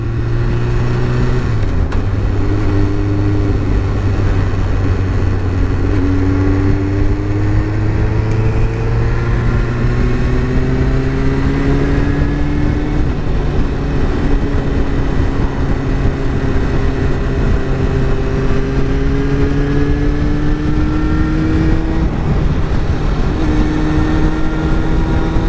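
Motorcycles pass one after another on a road on a sunny day, their engines droning and shifting pitch as they accelerate and pull away, a steady stream of engine noise with no talk.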